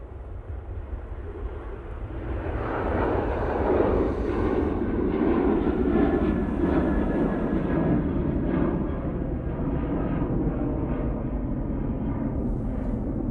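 A Ryanair airliner bound for Dublin takes off at Manchester Airport, its jet engines a loud, steady roar that swells and holds with broad rumble throughout.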